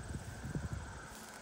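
Hooves clip-clop in a slow, uneven walking rhythm, fairly close and soft, over a steady background hiss.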